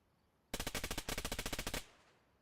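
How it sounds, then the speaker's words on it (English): Rapid burst of automatic gunfire from an enemy player in a shooter video game, about fifteen evenly spaced loud shots over roughly 1.3 seconds, then a fading tail into quiet. "This guy's still shooting."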